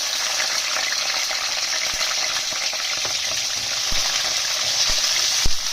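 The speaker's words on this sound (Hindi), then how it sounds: "अब ये ऑयल गर्म हो चुका है तो पहले मैं इसमें गाजर डालूंगी।" Carrots fry in hot oil in a kadai, a loud continuous close sizzle with occasional soft clinks of stirring.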